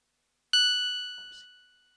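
A single high note on a Yamaha PSS-F30 children's toy keyboard, a bright bell-like tone that strikes sharply and rings out alone, slowly fading over about a second and a half.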